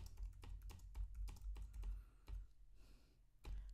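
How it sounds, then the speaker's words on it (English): Quick, irregular clicks of keys being typed on a computer keyboard, close and fairly quiet, coming in bursts with short pauses between them. "So let's type some things here."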